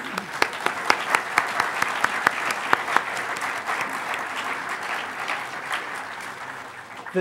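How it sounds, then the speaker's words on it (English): Applause from a hacker conference audience after a talk about Bell Labs phone history, a crowd clapping with crisp individual claps standing out at first, then tapering off toward the end. "So let's have a round of applause for Bell Labs."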